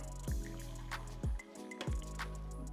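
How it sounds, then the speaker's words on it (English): Chicken broth and noodle cooking water being poured off from a pan of macaroni noodles, a wet liquid splashing and trickling with a few brief pulses of louder sloshing. "we're gonna save some of our noodle chicken broth water"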